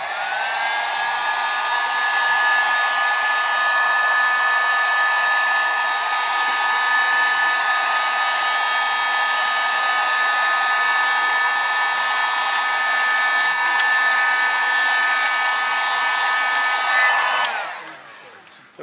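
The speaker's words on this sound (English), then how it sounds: "sometimes the good old rattle can works, especially if you use good paint." Spray paint hissing from a rattle can onto a Rally II wheel in one long, loud, steady burst lasting most of the clip, cutting off abruptly near the end.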